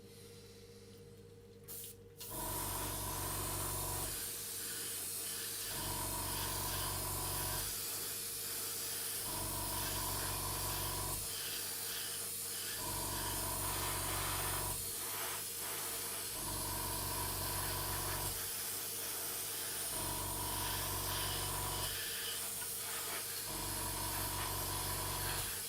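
Airbrush with a 0.3 nozzle spraying a wet coat of varnish onto a scale model at raised air pressure, a steady hiss broken into repeated bursts about every three to four seconds, close and continuous over a low compressor hum.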